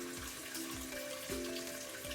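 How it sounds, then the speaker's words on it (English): Water runs steadily from a camper's hot water faucet, a constant splashing rush with a faint tonal whine from the pipes underneath. "I'm going to turn on the hot water faucet and see if we've got some hot water"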